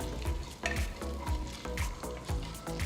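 Mustard seeds, chana dal, urad dal and cumin sizzle and crackle in hot oil while cooking a Tamil tomato dish, with a steady fry broken by regular scraping bursts of stirring, close and fairly quiet, with no talk.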